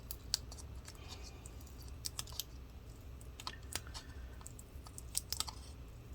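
Adhesive strip being peeled off the inside of an HP 14-dk1003dx laptop during disassembly, heard as faint, scattered crackly clicks and ticks over a quiet background.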